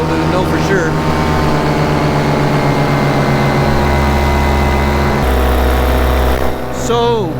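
Paramotor engine fitted with a new Vittorazi propeller, running steadily in flight: a loud, continuous droning hum with strong low harmonics that shifts pitch slightly partway through and fills the whole stretch.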